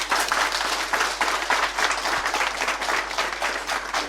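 A village audience at the chief's residence in Affalikro, Côte d'Ivoire, claps in sustained applause, a lively pulsing patter of many hands at moderate distance.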